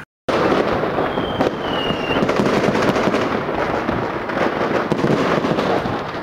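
Dense New Year's Eve fireworks and firecrackers burst outside on a foggy night, a steady crackling barrage of many overlapping bangs at middle distance, with one brief whistle rising through it.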